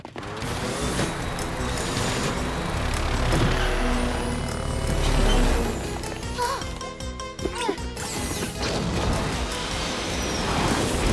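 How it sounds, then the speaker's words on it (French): A cartoon clown car in the animated series Totally Spies drives along with a steady engine roar and rumble, joined by mechanical rattles and clicks and a busy music-and-effects bed, loud throughout. "Suivons cette voiture de clown."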